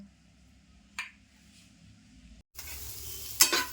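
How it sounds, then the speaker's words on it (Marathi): Onion frying in a little oil in a pan for Malvani-style prawn masala, a soft steady sizzle that swells to a louder, brighter hiss near the end, with a brief clatter partway through. "कांदा टाकला आहे आता कांदा आपण व्यवस्थित भाजून घ्यायचा थोडंसं तेल टाकते भाजण्यासाठी"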